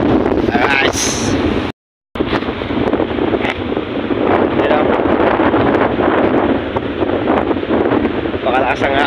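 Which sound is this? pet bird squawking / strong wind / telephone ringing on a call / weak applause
strong wind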